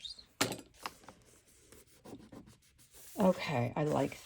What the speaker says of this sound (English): And clean these scissors.